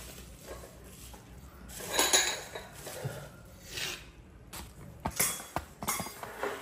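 A five-piece set of Japanese five-colour ceramic rice bowls clinks as it is handled, giving a few brief, bright ceramic knocks and taps at close range with quiet gaps between them.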